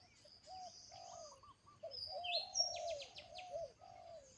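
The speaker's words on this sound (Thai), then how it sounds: "เสียงนกป่านะ" Wild birds chirp and call outdoors, a mix of lower warbling notes and quick high trills overlapping at moderate distance.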